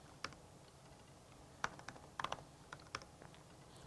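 Network key typed on a computer keyboard: scattered, quiet key clicks in uneven bursts, some quick double taps, close and alone.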